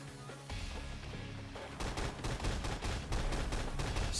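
The Colt Mk.40 L45 automatic cannon in Fallout 4 fires a sustained run of rapid, heavy shots that blend into a dense, rumbling barrage, moderately loud.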